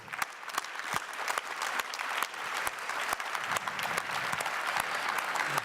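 An audience at a French Cit'ergie award ceremony claps in a moderate, irregular patter of individual hand claps, building slightly and continuing steadily without voices.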